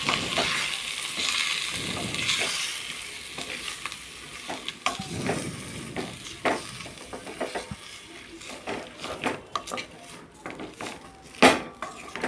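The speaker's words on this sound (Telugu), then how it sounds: "టమాటాలు వేసుకొని కలుపుకుంటూ ఉండాలండి." Tomatoes and salt stirred in a hot cooking pan, with a spoon scraping and clinking against the metal over a steady sizzle and no talking.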